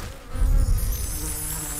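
Bees in a video game buzz in a steady insect drone that swells briefly near the start and then holds at a constant level, with no voices over it.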